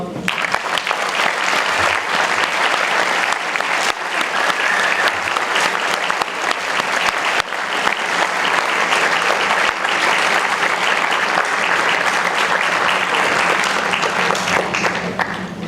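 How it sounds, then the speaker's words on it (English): Sustained, loud audience applause fills a room at an alumni association award ceremony, dense and even throughout with faint voices mixed in. "more round of applause"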